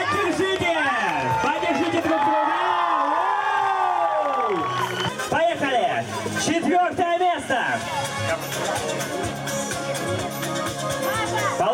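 A crowd at an award ceremony for a youth football cup in Ukraine cheers and claps in a continuous loud roar, under an announcer shouting into a microphone.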